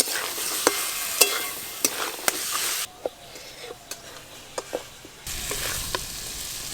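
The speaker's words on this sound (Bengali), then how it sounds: "মশলার সঙ্গে বেশ ভালো করে ছোলাগুলো মিশিয়ে নেব।" Boiled chickpeas are stirred with spices in a pan for chhola bhuna, with repeated scraping clicks of the spoon over a light sizzle. The sizzle drops away briefly midway, then returns.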